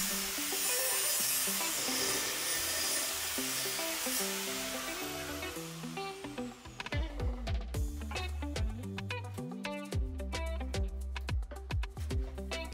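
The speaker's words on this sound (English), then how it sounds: "Cutting my pipe to size with a 4-inch grinder" A 4-inch angle grinder cuts steel pipe for a heavy-duty workbench, a steady loud hissing grind that gives way to choppy, uneven cutting noise with rhythmic chatter near the end.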